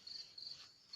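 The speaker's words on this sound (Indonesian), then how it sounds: "pantesan saya dengerin di sini gitar sama jangkrik doang dari lama" Crickets chirp on a quiet night in a steady series of high, trilling pulses, faint and alone with no voices.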